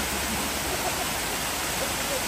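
Dzhur-Dzhur waterfall in Crimea, large streams of water falling from above, producing a dense, steady, loud roar that fills the whole clip without pause.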